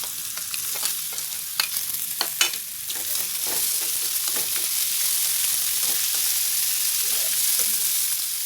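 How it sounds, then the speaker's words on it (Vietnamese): Mushrooms frying in a pan with golden fried shallots: a steady close sizzle with clattering stirring strokes early on, settling into continuous hissing frying. "Giờ mình sẽ cho cái phần nấm vô luôn các bạn."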